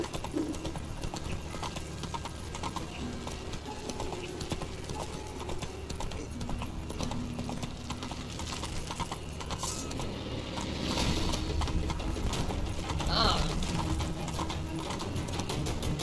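Roach the horse gallops in The Witcher 3, a steady rapid clip-clop of hooves that runs on continuously beneath game ambience and grows slightly louder in the latter half.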